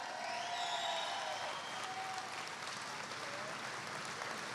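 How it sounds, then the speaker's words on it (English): An audience claps together at a factory production-launch event in Detroit: a steady wash of applause that sounds fairly distant and soft, lasting several seconds with no one speaking over it. "Now that deserves a clap."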